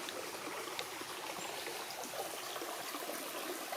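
Faint, steady rush of a creek flowing, a soft continuous trickle and babble of water heard from the bank with no voices.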